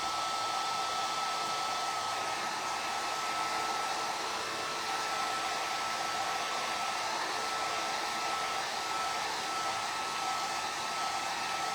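A hair dryer runs steadily at close range to dry a freshly applied craft transfer, a continuous even whoosh with no pauses and no voices.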